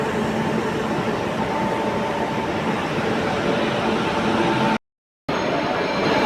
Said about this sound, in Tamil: நம்ம ட்ரெயின் தூரத்தில் வருது பாருங்கள்.